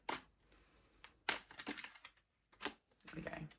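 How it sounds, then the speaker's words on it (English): Tarot cards are riffled and shuffled in short, crisp bursts of papery clicks and flutters, close and fairly quiet, separated by brief pauses. "Do one more shuffle."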